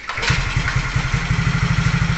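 A motorcycle engine fitted with a battery-operated 4-pin CDI starts with no battery installed, catching after a brief crank and settling into a steady, loud, close idle with an even putter, no talking over it.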